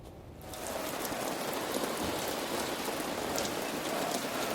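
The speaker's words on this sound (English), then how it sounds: "Well, the rain really coming down right now at Notre Dame Stadium." Heavy rain pouring down at Notre Dame Stadium during a college football weather delay, a dense steady hiss that swells up after a brief quieter moment and then stays loud.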